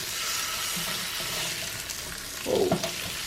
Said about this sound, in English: I'm gonna go ahead and give it a little flip to see how the other side is doing